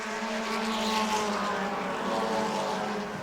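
Bomber class race cars roaring past on the New Smyrna track during a 40-lap feature, a loud, sustained engine howl sweeping by close with no voices over it.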